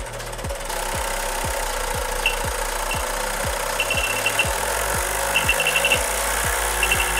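A homemade Lego electric motor driven at high voltage runs with a loud, rhythmic knocking, evenly spaced thumps over a steady whirring drone, joined by brief high metallic chirps.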